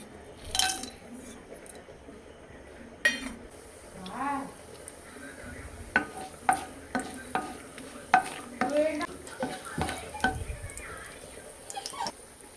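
Masala, garlic and ginger sautéing in ghee, a soft sizzle under repeated stirring and scraping, with spoon clinks against the pan and a voice talking in the background.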